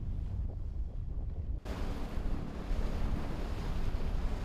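Rough sea waves off the Gijang coast near a seaweed farm, a wind-blown roar of surf that swells into a louder, sustained wash partway through, with heavy wind noise on the microphone.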